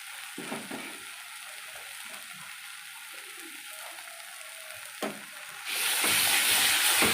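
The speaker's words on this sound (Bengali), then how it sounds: "আবার একটু ভাজা ভাজা করে নেবো।" Soft sizzling of a spice and tomato paste frying in oil in a pan, with occasional scraping stirs, growing into a louder, steady hiss near the end.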